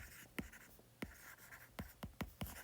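Marker or pen strokes writing physics equations for an electromagnetic induction problem, a series of short, distinct scratchy taps and squeaks spaced irregularly, close and alone with no talk.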